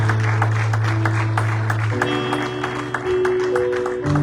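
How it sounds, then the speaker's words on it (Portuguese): A church congregation applauding the Lord in worship, with continuous clapping from many hands over sustained organ or keyboard tones, all held at a steady, full level. "aplauda o Senhor Jesus."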